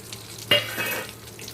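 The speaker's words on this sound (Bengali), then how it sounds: "5 ফোড়নটা একটু ভাজা ভাজা হোক" Panch phoron, a five-spice tempering, fries in hot oil, opening with a sharp burst of sizzle that settles into a softer crackle with a light stir, close and quiet.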